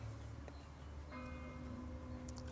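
A church bell rings out with a sustained, humming tone over steady background noise, heard from a distance.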